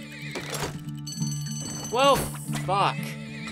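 A horse neighs in the strategy video game Turmoil, two short rising-falling whinnies close together over steady game music, with someone talking before them.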